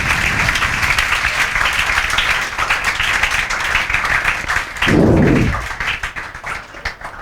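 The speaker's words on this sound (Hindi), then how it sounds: "जोरदार तालियां" A classroom of students claps loudly and steadily in a dense sustained burst, with a short thump and rising hubbub near the end before the clapping thins out.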